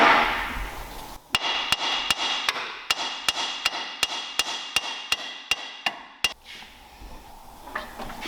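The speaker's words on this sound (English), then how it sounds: "just hammering the wishbone arm out" A rapid series of about fifteen loud, evenly spaced metallic hammer blows on the suspension wishbone arm of a MINI Cooper R53, ringing out up close, stopping abruptly after several seconds.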